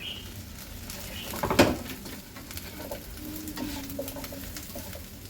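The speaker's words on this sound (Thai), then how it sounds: "จากนั้นก็จะใส่กระหล่ำลงไปค่ะ" Shredded cabbage and onion frying in a pan for halusky, a steady soft sizzle with a sharp scraping stir burst early on, then continued low sizzling and light stirring noises.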